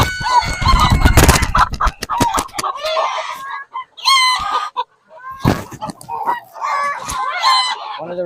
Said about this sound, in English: So here's one of the roosters.